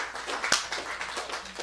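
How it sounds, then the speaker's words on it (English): A short burst of applause for a presenter at a lecture, with scattered claps forming a light, uneven patter and one sharper clap standing out near the middle. "Give her a round of applause"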